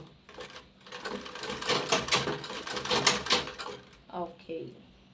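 A sewing machine stitching a bag pocket near a zipper, a close, fast mechanical rattle that runs in bursts and then stops and starts briefly.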